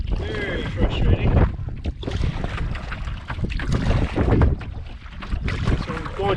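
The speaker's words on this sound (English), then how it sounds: "The wind keeps changing up here." Wind gusting across an open wilderness lake while fishing from a boat, a loud, continuous rumble of wind buffeting the microphone with shifting strength, broken by faint water and boat sounds.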